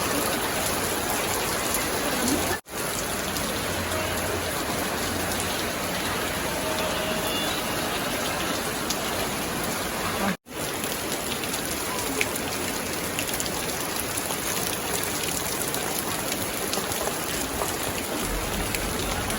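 Steady rain hisses evenly on a surface throughout, a constant wash of droplets with two brief dropouts and no clear talk.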